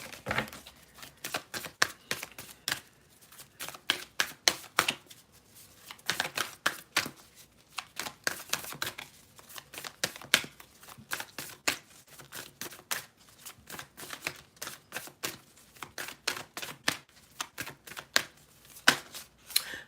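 Tarot cards being shuffled by hand, a long run of crisp riffling and slapping bursts in irregular rhythm, close and fairly quiet, with short pauses between handfuls.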